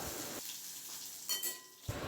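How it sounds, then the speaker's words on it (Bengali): Bay leaf and dried red chillies crackle and sizzle in hot oil, with a couple of brief scraping stirs of a spatula near the pan, no voices. "খুন্তি দিয়ে নাড়াচাড়া করে এগুলো ভেজে নিচ্ছি।"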